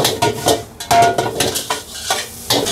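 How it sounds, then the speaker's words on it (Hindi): Egg schezwan noodles stir-fried over a high flame, with a loud, steady sizzle broken by repeated scraping and clattering strokes of a utensil against the pan, close and with no voices. "लगभग 3 से 5 मिनट आपको हाई फ्लेम पे मिक्स करते रहना है।"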